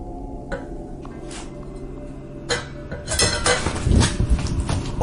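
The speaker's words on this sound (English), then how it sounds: "A knife resting on a plate begins to move on its own." A knife shifting on a plate in a quiet room, a few light clinks and scrapes of metal on ceramic, growing busier and louder toward the end.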